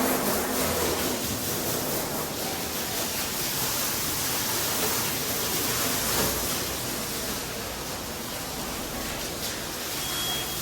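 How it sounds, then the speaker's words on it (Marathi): A steady, dense rush of water sprays onto a car at a car wash, running continuously at close range with little variation and no voices. "आता पाणी मारतो बघा कसं मी पाणी मारतो"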